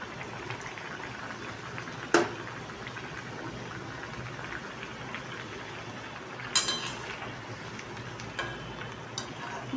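A paneer dish simmering in a pot with a little water, giving a quiet, steady bubbling hiss broken by a few sharp clicks or knocks.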